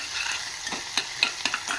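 Cluster beans and crushed garlic cloves are stirred in a hot pan: a soft, close sizzle broken by several scraping clicks of the spoon, with no voices.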